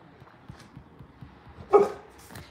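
A single dog bark rings out sharply amid quiet background noise, with faint soft thumps and rustles around it.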